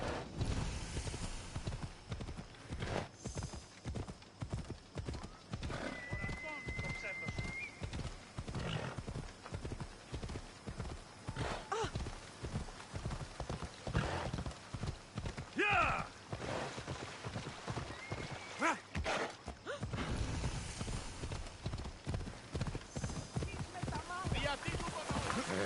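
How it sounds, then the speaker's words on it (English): Horse hooves clip-clopping in rapid rhythm while riding in Assassin's Creed Odyssey on PS5, with occasional whinnies and in-game sounds and a voice talking over the steady hoofbeats. "Why walk and climb when I can ride a horse?"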